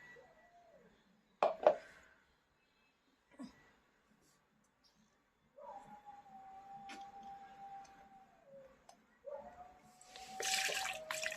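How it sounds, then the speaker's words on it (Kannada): Tap water runs into a container while homemade butter is being prepared, a faint steady stream in two longer stretches, the second louder and splashier, after a few quiet clinks and a brief spoken word. "ಅದಕ್ಕೆ ಸ್ವಲ್ಪ ನೀರು."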